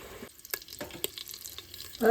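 Shrimp frying in oil for Instant Pot shrimp biryani, a close, lively sizzle with scattered spits and pops and a louder burst at the end.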